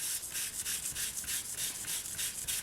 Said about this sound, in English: I'm going to give them a quick sand.